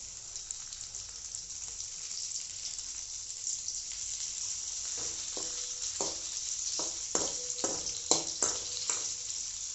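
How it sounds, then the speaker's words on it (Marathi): Green chillies and tomato fry in hot oil in a home kitchen pan, giving a steady close sizzle with intermittent scraping stirs that come in a quick rhythmic run toward the end, and no voices. "आता याला थोडंसं मिरचीला शिजू देऊ. ते टमाटर टाकू."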